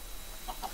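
Chickens in Minecraft cluck in a couple of short, soft clucks over a quiet background, with no talking.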